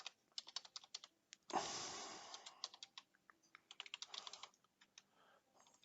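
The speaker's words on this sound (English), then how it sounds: "if we wanted to add a new heading, we can type in here" Clicky keystrokes on a computer keyboard as a heading is typed into a Shopify admin page, quick uneven taps close by with a short rustling burst partway through and no talking.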